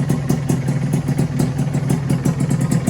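A two-stroke motorcycle engine idles steadily after its cylinder block was overbored, running on Castrol A747 premix with a rapid, even, chattering pulse, loud and close with no talking.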